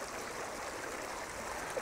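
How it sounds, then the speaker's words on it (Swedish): Water flows out of the top pond of a small fishing-lake system in a steady, rushing stream, a continuous broadband wash with no voices. "Sen rinner då vattnet ut från den översta dammen här och sen ner till"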